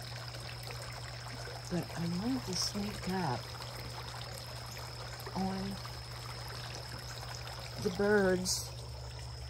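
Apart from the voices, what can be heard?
garden water fountain trickling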